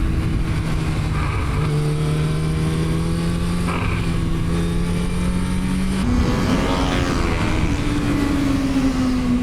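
A racing motorcycle engine holds a steady high drone, then the revs climb sharply partway through and stay high, loud and close with no talk.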